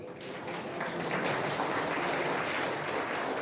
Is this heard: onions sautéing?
no